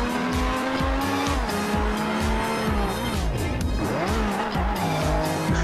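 An arcade race car in Trackmania Wii drives hard with a loud, buzzing engine that revs up and down, while tires squeal and skid repeatedly through tight turns.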